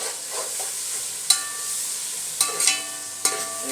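Tomatoes and masala fry in a hot pan for Lahori-style anda chanay, a steady close sizzle broken by a few sharp metallic clanks of a spoon against the pan.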